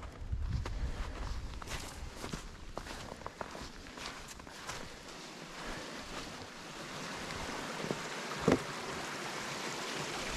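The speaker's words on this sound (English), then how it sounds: "Mini waterfall." Water from a small waterfall on the Appalachian Trail flows in a constant broad rush, with footsteps crunching along the trail and a sharp knock partway through.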